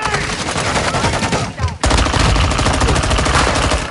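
Rapid automatic gunfire in Call of Duty: Modern Warfare 2, loud dense bursts that run almost without pause, with a brief dip before the shooting resumes at full force.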